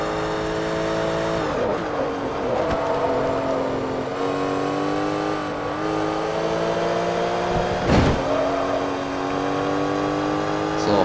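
A Porsche Cup race car in Forza Motorsport 3 holds full throttle, its engine note a loud, sustained high-pitched roar rising steadily through the gears with brief dips at shifts, continuous and close throughout.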